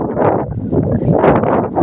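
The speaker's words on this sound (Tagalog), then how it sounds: "Malakas yung hangin." Strong wind buffets the microphone in loud, gusting roars that swell and ease continuously for the whole stretch.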